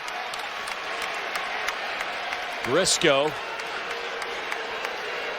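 A Rupp Arena crowd at a Kentucky vs Arkansas basketball game keeps up a steady roar of cheering and clapping, with a commentator briefly calling a player's name over it.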